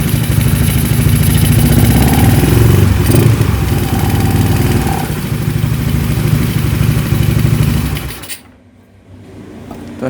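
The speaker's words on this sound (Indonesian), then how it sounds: "Itu ada suara kotek-kotek karena skepnya yang kocak ya, jadi bunyi kayak gitu." A Honda Spacy scooter with a bored-up engine idles loudly up close, its steady running note carrying a rapid clattering rattle from a worn clutch, before the engine cuts and quiets at the end.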